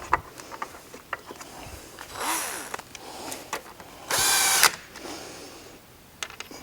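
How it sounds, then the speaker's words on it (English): A power drill whirs in short bursts with one longer sustained run, driving socket head screws on a conveyor metal detector installation, mixed with clicks and clatter of tool handling nearby. "I generally set my drill so the clutch is going to kick over when I'm running these socket head screws back in,"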